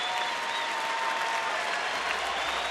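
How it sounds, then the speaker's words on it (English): Steady applause from a large, appreciative crowd at Rangers Ballpark during a Houston at Texas baseball game, a continuous dense clapping wash that holds evenly from start to finish. "get a nice round of applause by the appreciative crowd here at Rangers ballpark"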